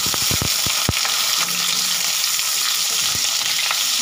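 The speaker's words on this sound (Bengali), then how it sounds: "দিয়ে দেব কড়াইতে তেল, দেব জিরে, দেব তেজপাতা, আলু কেটে ধুয়ে রেখেছিলাম" Washed, cut potatoes fry in hot oil with cumin seeds and bay leaf in a wok, a constant crackling sizzle punctuated by a few sharp pops and spatters early on, with no talking.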